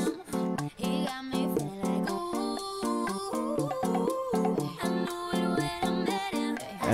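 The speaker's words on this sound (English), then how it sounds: "So I put in the segunda." A segunda guitar part plays in a bachata remix: bright, plucked, syncopated guitar notes in a quick repeating pattern over a steady rhythm, unmixed and moderately quiet.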